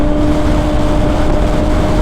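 A Kawasaki Ninja ZX-6R with an aftermarket legal exhaust gives off a dense, steady, loud drone that holds at an even level for two seconds, with no voices.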